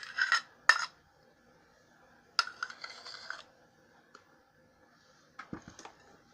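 Spatula scraping leftover cheesecake crust mixture from a bowl, in short separate bursts of scraping and light clinks with quiet gaps between.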